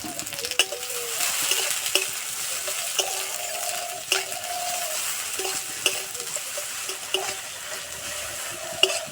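Chopped onion frying in a pan after cloves, peppercorns, cinnamon, bay leaf and cardamom went into the oil for an egg korma, a steady close sizzle broken by scraping stirs and occasional clatters, with no talking.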